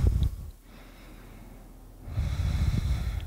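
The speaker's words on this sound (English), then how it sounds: "Three more breaths." Deep, slow breathing during a yoga flow, with a loud breath at the start and another toward the end, a quiet pause between them, close and unaccompanied.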